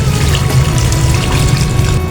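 Steady rush of water pouring into a pot of fish soup, continuous and fairly loud from start to finish with no talking.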